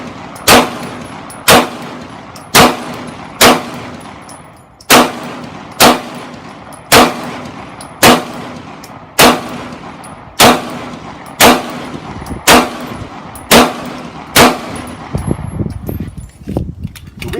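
A Beretta M9/92FS pistol fires about fifteen loud, sharp shots at a steady, roughly one-per-second pace, each shot ringing briefly before the next, with no voices between them.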